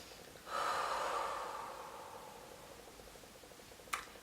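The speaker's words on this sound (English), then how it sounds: "Take a deep breath" A single deep breath drawn in softly and close, a breathy rush that swells and slowly fades over a couple of seconds, followed by a quick faint click, in a quiet room.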